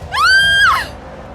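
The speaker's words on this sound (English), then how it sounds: "And she screams as her face is locked in this panic-stricken mask of terror." A woman's single piercing scream of terror as a dramatized sound effect, loud and sustained for about half a second before falling away, with no talk around it.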